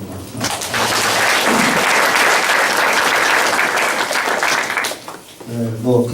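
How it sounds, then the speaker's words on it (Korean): A church congregation breaks into loud, sustained applause after a closing prayer and thanks at a fellowship gathering, broad clapping filling several seconds before tapering off as a voice resumes speaking. "하나님께 영광의 박수를 드립시다."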